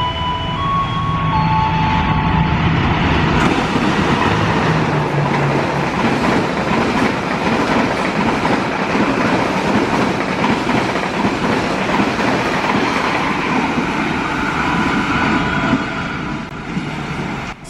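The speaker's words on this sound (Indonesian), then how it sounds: "Kemudian jalur 2 melintas kereta api Argo Merbabu" The Argo Merbabu passenger train passes loudly along track 2 at a station, a continuous roar of wheels with rhythmic clickety-clack over rail joints and a brief horn-like tone early on, sustained throughout.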